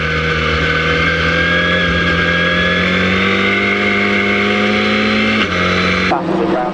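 Formula Ford 2000 race cars, including a Reynard and an Osella, racing at Brands Hatch, with a steady loud engine drone that shifts pitch as cars pass, then an abrupt change near the end.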